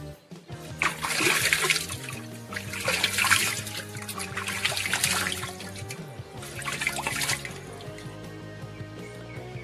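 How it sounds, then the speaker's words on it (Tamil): Water is poured over newly planted saplings in a tree plantation, coming in several separate splashing bursts of a few seconds each, close and fairly loud, with a steady tonal hum underneath and no talking. "இப்போ நட்ட செடிங்களுக்கு நம்ம வந்து தண்ணி ஊற்றலாம் வாங்க"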